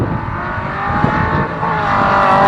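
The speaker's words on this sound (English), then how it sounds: "Here comes TJ and his like 240 with a LS in it." A 240 fitted with an LS engine drives an autocross course, its loud engine droning steadily and climbing slightly in pitch as it accelerates nearby.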